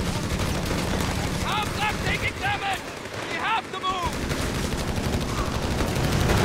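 Rifle and SMG fire from infantry and engineers in Company of Heroes 3, engaging a German half-track at range: a steady, dense crackle of gunfire throughout, with a game voice briefly calling out over it in the middle.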